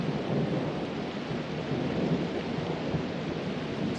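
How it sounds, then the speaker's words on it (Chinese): Loud, continuous rumbling thunder fills the whole stretch, with a steady rain-like hiss layered on top and no voices. "这么大雷声不怕吗"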